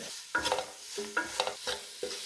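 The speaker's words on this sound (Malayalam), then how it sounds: "മല്ലിപ്പൊടി ആദ്യം ഇട്ടിട്ട്, ഉപ്പ് ഇട്ടിട്ട് മിക്സ് ചെയ്തിട്ട് ലാസ്റ്റ് മുളക് പൊടി." Coriander powder and salt being stirred into a frying pan, with four or five distinct scraping strokes in a steady rhythm over a faint sizzle, close and fairly quiet, no voices.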